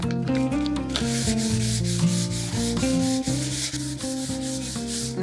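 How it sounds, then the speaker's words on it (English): Hand sanding of a weathered wooden outdoor table top, worked with the grain, gives a steady close rasping scrape that runs continuously from start to finish with no talking. "So I'm finding that it's easier just to sand by hand."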